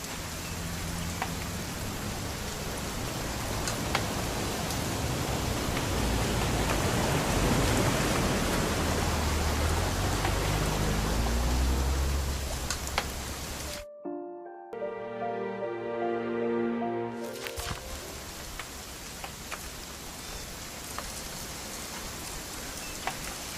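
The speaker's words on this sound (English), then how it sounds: "It's gonna rain the whole weekend, isn't it?" Heavy rain pours in What Remains of Edith Finch with a thick, continuous wash and low rumbles like distant thunder, cutting out abruptly for a few seconds before the downpour returns.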